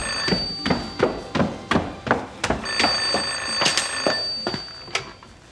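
A telephone rings in a home during a Taiwanese drama series, its bell sounding in a quick, repeated trill of sharp bursts across several seconds, close and fairly loud with no talking.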